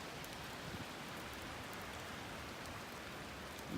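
Steady rain falls on a cold, wet, flooded outdoor spot near Bloomington, a faint, even hiss of drops with no other sounds.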